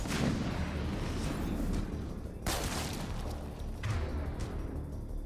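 Grenade blast in the video game Mass Effect 3 during a firefight on Eden Prime: a loud booming explosion lands amid sustained gunfire, followed by a second, smaller burst, all dense and close.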